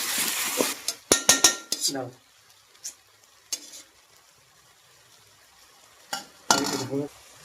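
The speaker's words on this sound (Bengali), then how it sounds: "এবার বন্ধুরা, গ্যাসের ফ্লেমটা হালকা আঁচে রেখে আস্তে আস্তে করে টমেটো আর পেঁয়াজটা ভেজে নেব" Tomato and onion being stirred in a pan over a low gas flame, the spoon scraping and clinking in a few brisk bursts near the start and again near the end, with quiet gaps between and a soft sizzle underneath.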